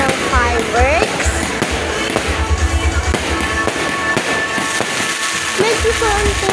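Fireworks burst in rapid succession, a dense series of loud cracks and pops going on throughout, with a voice talking over the explosions.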